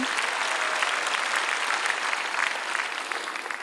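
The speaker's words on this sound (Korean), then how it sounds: "박수로 하나님께 영광 돌리고" Steady, dense applause from a large audience at an outdoor prayer rally for peace and unification at the Peace Plaza of the War Memorial in Seoul, a continuous broadband clapping wash that holds evenly throughout.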